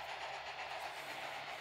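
A steady rumbling train sound from a train simulator game, with a rhythmic low clatter, continuous and fairly soft, with no voices.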